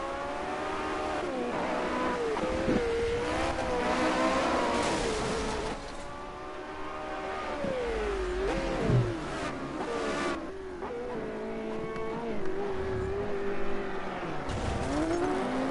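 Race cars on race day power through a corner, engines droning and revving continuously with pitch sweeps as they pass, loud and sustained throughout under faint crowd or commentary bed.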